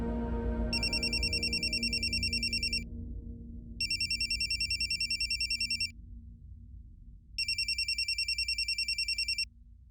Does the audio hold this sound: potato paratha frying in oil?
no